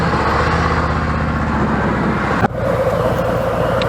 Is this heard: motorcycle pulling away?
yes